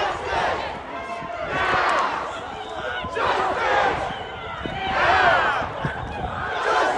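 A large protest crowd marches toward the 120 precinct in memory of George Floyd against police brutality, with continuous chanting and shouting voices swelling in waves, loud and close throughout.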